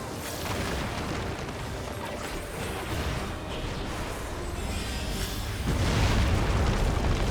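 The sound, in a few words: explosion in the video game Final Fantasy XIV: Dawntrail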